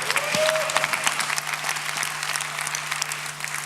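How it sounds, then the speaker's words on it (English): A crowd at a startup competition finals on a main stage breaks into steady applause with a faint tone underneath. It starts strong and then eases slightly. "Let's give a big round of applause."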